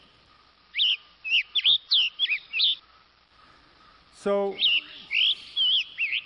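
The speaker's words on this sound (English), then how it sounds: "The tanager on the east coast of the United States, where the forests are a little denser, has one kind of call" Tanager calls ring out as a run of quick, sharp whistled chirps. After a short gap, a second burst of chirping phrases follows, clear and fairly close.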